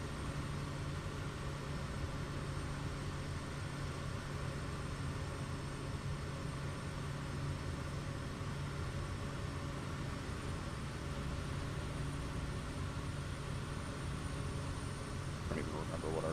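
Kodiak 100 aircraft engine in Flight Simulator 2024, a steady, loud turboprop drone that holds unbroken at reduced power throughout, with a constant broadband roar and a low hum beneath.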